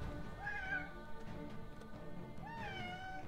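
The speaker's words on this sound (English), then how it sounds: "my cat's freaking out" A house cat meows twice in distress, once near the start and again near the end, over a steady background of computer game audio with no talk.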